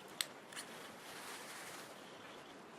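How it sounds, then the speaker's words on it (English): Sharp scissors snip the frayed end of a sewing thread, two quick faint clicks over a quiet room hiss. "We have to cut it with sharp scissors."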